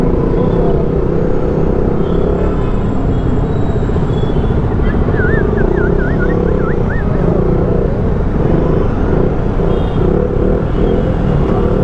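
Dense road traffic in Coimbatore rumbles steadily and loudly, a continuous mix of engines and passing vehicles with a brief horn-like tone in the middle, no talk.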